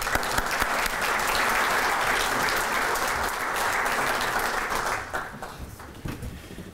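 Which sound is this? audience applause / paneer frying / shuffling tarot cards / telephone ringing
audience applause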